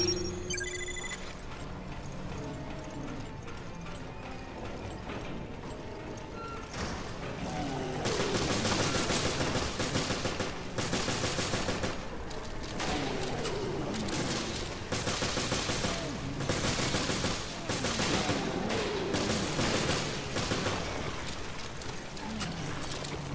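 Rapid gunfire in the Resident Evil Revelations video game, dense bursts of machine-gun and shotgun shots crackling loudly over game music and effects, sustained through most of the stretch.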